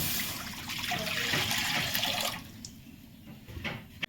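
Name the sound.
water poured into a cooking pan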